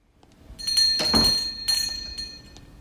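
A shop door bell jingles once from a TV show, a bright metallic ring with a short tail that fades, followed by a fainter second chime.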